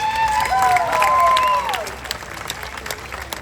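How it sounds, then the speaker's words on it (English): Audience at a family stage show bursts into clapping with a few whoops, loud at first, then thinning into scattered claps toward the end. "thank you for the claps"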